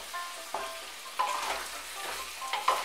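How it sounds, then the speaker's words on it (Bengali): Washed mung dal frying with vegetables in a pan for khichuri, a soft sizzle punctuated by several distinct scraping stirs of the spoon, close and moderately loud. "ডালটা সবজির সঙ্গে ভালো করে মিশিয়ে নিয়ে ডালটা একটু ভেজে নেব"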